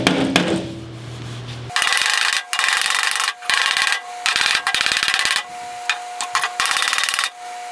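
A body hammer taps lightly on the sheet-metal panel of an International Scout, striking in quick, bright runs of repeated blows broken by short pauses, loud and close.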